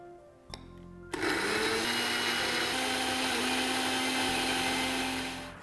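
A mixer grinder jar whirs loudly and steadily, grinding ingredients for Jain-style malai kofta into a smooth paste; a brief clatter comes first, then the motor roars up and runs continuously close by before winding down at the end.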